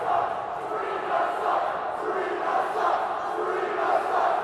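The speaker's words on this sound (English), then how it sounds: "I believe the crowd chanting, "3 ref sucks."" A crowd at a University of Utah versus Weber State hockey game chants and roars in a loud, continuous wash of voices from a packed arena.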